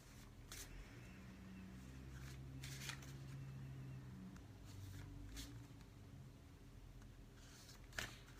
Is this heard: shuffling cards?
yes